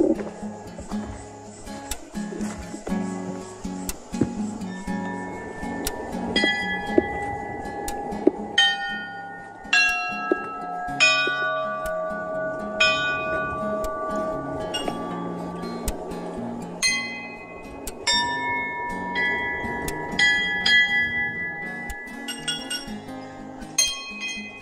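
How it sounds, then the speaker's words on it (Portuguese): Seven chapel bells on a farm estate, each tuned to a different note, ring in an irregular, overlapping sequence of clear metallic strikes with long, shimmering decays. "Pessoal, vocês podem perceber que os sinos têm um tom diferente. São 7 sinos."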